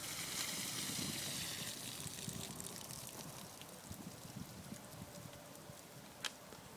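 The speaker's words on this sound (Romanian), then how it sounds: "Acum o să iau, scurg apa din ea." Steady trickling and pouring water drains from an inflatable boat, a continuous wet splashing close by with a few small knocks and clatters mixed in.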